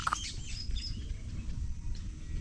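Faint bird chirps flicker over a low rumbling background, scattered and distant, with no voices.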